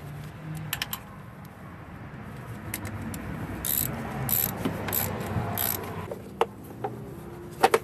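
Ratchet clicks as coil pack bolts are snugged down on a 2007 Toyota Yaris engine, close, in short rhythmic bursts over a steady background hum, followed by a couple of sharp metallic taps.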